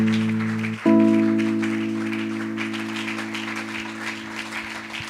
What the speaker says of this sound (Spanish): Dele ese aplauso al Señor en esta hora.